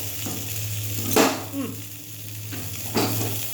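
A curry is added to hot oil over burnt tempering, giving a sizzling hiss with a few sharp bursts and a spatula scrape, all over a steady low hum.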